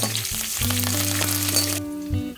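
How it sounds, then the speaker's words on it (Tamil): Mustard seeds, fenugreek, dried chillies, curry leaves and coriander seeds fry in hot oil for ginger thokku, giving a continuous close sizzle with sharp crackles over a steady tonal background hum. "மிளகா வெத்தல் கருவேப்பிலை எல்லாமே நமக்கு நல்லா பொறிஞ்சு வந்துருச்சு"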